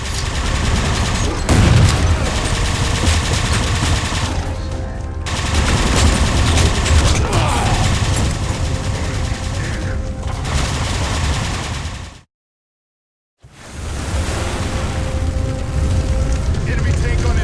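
Heavy gunfire and booming blasts from a railgun battle against Phantoms in Halo 4, dense and loud for long stretches, broken by a brief full silence before the roar resumes.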